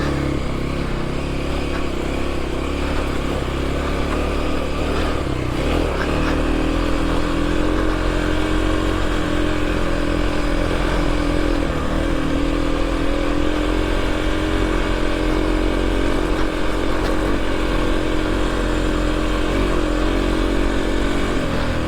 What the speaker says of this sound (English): first gear, puttering through this stuff